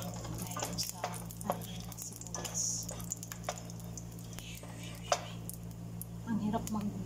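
Garlic and ginger sauté in a pan, with a soft steady sizzle under quiet stirring and scraping clicks as the pieces are moved around. A voice speaks faintly in the background.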